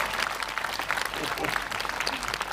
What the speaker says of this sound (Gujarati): હા, સમજ પડે તાળી પાડજો